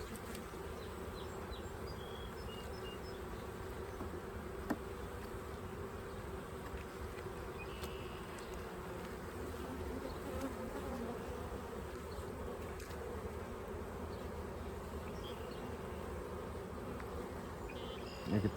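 Honey bees swarm around an open beehive, their dense, continuous buzzing holding steady and close for the whole stretch, with a few faint knocks and movements in the background.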